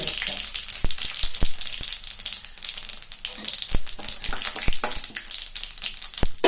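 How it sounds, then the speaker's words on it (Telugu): Tempering seeds dropped into hot oil, crackling and spitting loudly in a dense sizzle with sharp pops scattered throughout, heard up close. "తాలింపుకి కొంచెం ఆయిల్ వేద్దాం అది హీట్ ఎక్కుద్ది ఇప్పుడు తాలింపు గింజలు వేసి"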